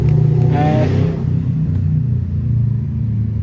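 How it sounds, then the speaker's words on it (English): Cars and motorbikes passing on a road beside a garden, a loud close engine rumble with a rising rev early on, then easing into steady traffic noise, no talk. "Wow guys, all the cars and bikes in the world."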